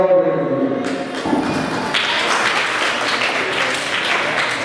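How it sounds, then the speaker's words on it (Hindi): Applause for organisers at a civic ceremony in Bijapur: a burst of clapping swells after the first second and continues as a dense, steady patter, fairly close and loud, with a voice heard at the start. "ये लोग जो ये इनिशिएटिव को शुरू किया है ये उनके लिए जोरदार तालियां"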